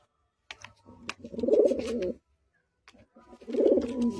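Pigeons coo in a loft of paired birds, two separate bursts of low throaty rolling calls, close and fairly loud, with brief quiet between them and no talk.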